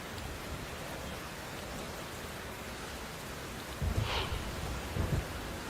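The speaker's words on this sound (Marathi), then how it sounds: "भिवंडी शहर आणि ग्रामीण भागामध्ये मुसळधार पावसाची हजेरी बघायला मिळते" Heavy monsoon rain over Bhiwandi city and its surrounding rural area makes a dense, constant hiss, with a couple of low rumbling swells near the end.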